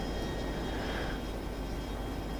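Jet airplanes wait to take off in F-22 Total Air War, their engines a steady, close whine and roar with no talk over it.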